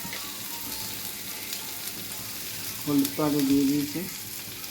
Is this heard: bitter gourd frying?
yes